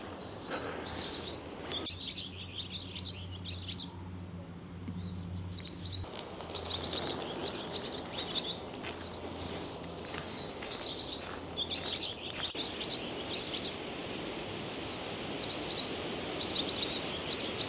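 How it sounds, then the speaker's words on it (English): Birds chirp and tweet along a forest trail on a morning walk, with repeated bright calls from several directions, some close, over faint rustling and outdoor ambience. "the birds out here this morning are very chirpy"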